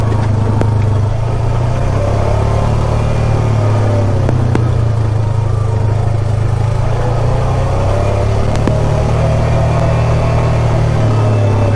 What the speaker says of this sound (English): I can idle it in second gear and you can hear that engine holding us all back.